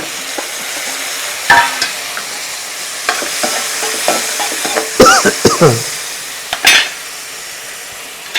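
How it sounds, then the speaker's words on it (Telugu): Tomatoes tipped into a sizzling pan of country chicken curry with drumsticks, loud close frying hiss broken by repeated sharp spoon scrapes and clanks against the pot. "ఇందులో కొంచెం టమాటాలు వేస్తున్నాను"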